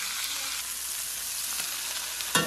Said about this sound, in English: Wow, this butter is burning.